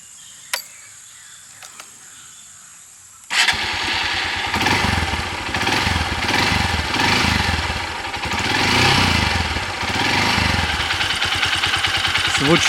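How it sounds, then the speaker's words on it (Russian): A motorcycle bought in the Philippines starts up in a quiet spot after a near-silent opening with a few faint knocks, then its engine and exhaust run steadily at a gentle, even idle, close by. "Здесь так тихо и есть возможность послушать, как звучит двигатель и звук выхлопа нашего мотоцикла."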